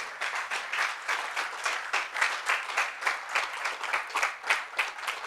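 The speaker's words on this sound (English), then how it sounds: "So please give them a nice round of applause for their efforts." A conference audience applauds two people returning to the stage, a dense, even clapping crowd with a rhythmic pulse running through it, sustained from start to finish without talk.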